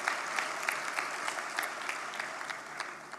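Audience applause at the official launch of Forum Ekonomi Malaysia 2026, a steady wash of many hands clapping with scattered sharper claps, moderately loud and continuous, with no talk over it.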